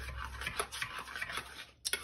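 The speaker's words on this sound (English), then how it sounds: "So I'm just going to stir this up here." A spoon stirs pastry mixture for maple religieuse in a bowl, making soft, close scraping and rubbing strokes in an uneven rhythm, with a couple of sharper clinks near the end and no talking.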